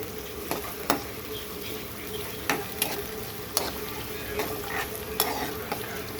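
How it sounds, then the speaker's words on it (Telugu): Lemon rice ingredients fry in hot oil until golden, a constant close sizzle punctuated by sharp clicks of a spoon stirring against the pan. "ఇవి గోల్డెన్ కలర్లోకి వచ్చేదాకా ఫ్రై చేసుకుందాం."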